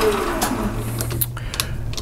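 A metal lathe parts off a small model-engine spark plug to half-inch length, giving a steady close machining whir with a low motor hum and faint scraping throughout.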